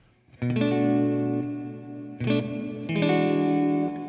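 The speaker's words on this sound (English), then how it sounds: "it sounds like a dry guitar with a digital reverb, because that's exactly what it is." Clean, dry electric guitar chords ring out, three strums with a lingering wash of digital reverb trailing each one, no voices.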